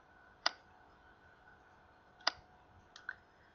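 Two sharp, quiet mouse clicks about two seconds apart, then a softer double click, all over a faint steady background hum with no talking.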